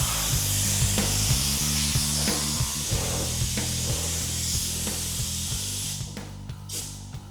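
A car panel is blown with air while a tack cloth wipes it, making a loud continuous hiss of blowing air over a rhythmic low rubbing and thumping, the hiss cutting out near the end.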